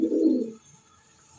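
Racing pigeons give one low, soft coo lasting about half a second, close and fairly quiet, followed by near silence.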